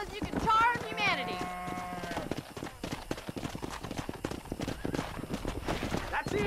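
Horse hooves clip-clop steadily while herding cows on horseback in the Red Dead Redemption video game, the rhythmic clatter running under game music and frequent voices talking.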